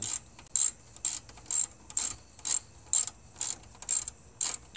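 Ratchet tightening the battery hold-down bolts on a Toyota RAV4, nine or ten evenly spaced bursts of sharp metallic clicking, close and clear, with no talk.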